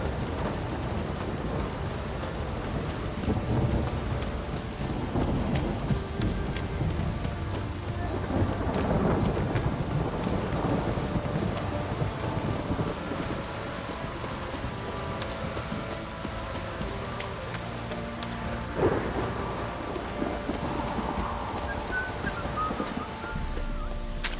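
Heavy downpour with rolling thunder in a video game set in Velen, steady dense rain hiss throughout with several deep thunder rumbles swelling and fading, loud and continuous, no voices.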